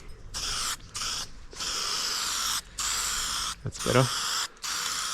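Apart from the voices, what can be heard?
aerosol spray paint can spraying with new nozzle on aluminium boat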